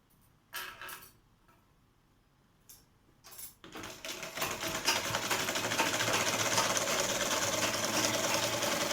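Faint clicks and brief handling sounds give way to a sewing machine stitching a child's boutique-style lehenga, starting up and then running loud and continuous to the end.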